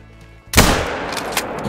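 A single sharp hunting rifle shot from The Hunter Call video game cracks loudly and trails into a long rolling echo that fades slowly.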